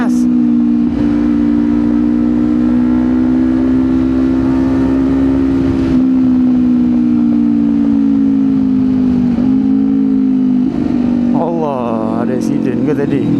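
A Kawasaki Ninja 250 motorcycle with an SC Project exhaust runs steadily nearby with a loud, constant drone and slight pitch shifts, with occasional voices underneath.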